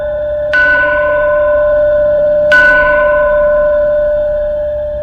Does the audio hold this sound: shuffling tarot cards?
no